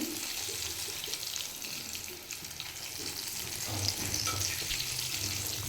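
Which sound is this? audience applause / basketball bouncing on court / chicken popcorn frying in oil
chicken popcorn frying in oil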